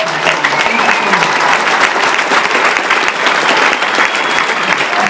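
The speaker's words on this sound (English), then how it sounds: "So I just need a big round of applause for Evie." An audience at a film festival fundraiser gives steady, dense applause, loud and sustained throughout with a full crowd clapping at once.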